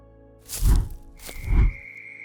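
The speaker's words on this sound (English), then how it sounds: "In the spring, a lot of times this time of year, you hear this call, and these are male toads" Male toads call in spring outdoors: two separate low, throaty pulses, each swelling and fading over about half a second, heard fairly close with a faint steady hum in the background.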